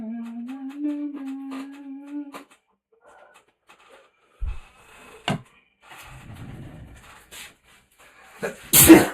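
A loud, close sneeze bursts out near the end, after a stretch of quiet room noise, a few soft knocks and other faint sounds.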